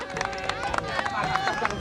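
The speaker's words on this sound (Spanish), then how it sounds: "Mira, un aplauso para los chicos" Crowd gathered around children during a family street event in Argentina, clapping for the kids in uneven bursts while someone talks loudly over the applause.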